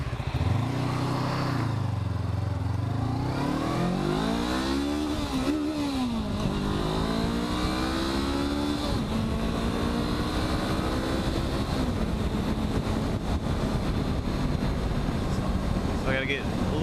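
A 2021 Honda CB500X motorcycle engine is heard while riding. It revs up and drops in pitch through gear changes, including a slip into neutral, then settles into a steady drone with wind noise and a rider speaking over it.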